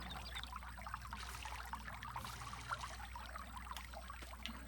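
Water poured from a bucket in Farming Simulator 22, a faint continuous trickling pour over a low steady hum, alone without talk and at low volume throughout.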